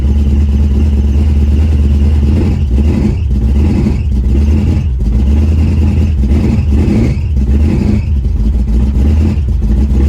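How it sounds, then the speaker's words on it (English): A neglected 1970 Pontiac Tempest engine idles loudly and steadily up close, with a belt squeal running through the rough mechanical clatter. "Got a pretty good belt squeal going on"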